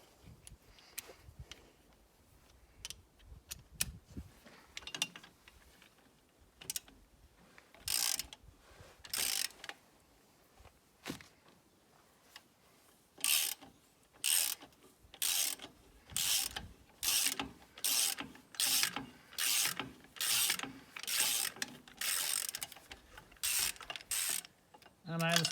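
A wrench ratcheting as it loosens a nut and stud on the engine of a Volvo 2254 tractor, quiet scattered clicks at first, then a regular run of loud, close ratchet bursts.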